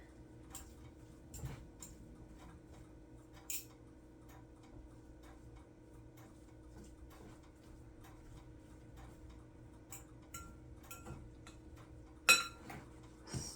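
A spoon stirs chunks of shredded chicken in a crock pot, scraping at pieces stuck to the bottom, giving soft, sparse clinks and taps against the ceramic at close range, quiet and without talk.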